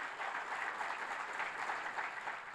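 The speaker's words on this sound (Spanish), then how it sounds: "Dale un fuerte aplauso a Dios" A church congregation applauds during a sermon, with a continuous, even patter of many hands clapping at a fairly soft, distant level, with no voices over it.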